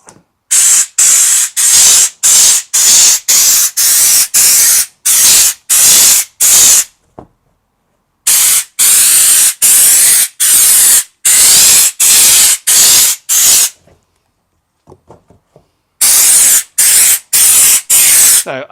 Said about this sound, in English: I'll spray on to some cardboard so you can see what the spray pattern's like